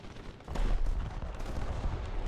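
Heavy artillery-style cannon fire from a 155mm tank destroyer, the Lorraine 155 Mle.50, in a tank battle video game, with a loud low boom near the start and rumbling battle noise after.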